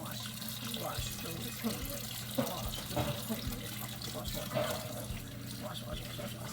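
Tap water runs steadily into a kitchen sink during dishwashing, a continuous close hiss with small clinks, while a person talks over it.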